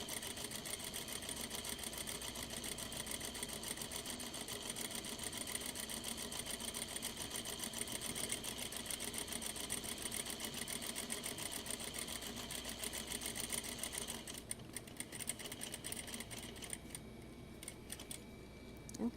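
A sewing machine runs steadily, stitching fabric pieces in a home sewing room with a continuous dense whirring drone that holds for the whole stretch, shifting slightly in texture near the end.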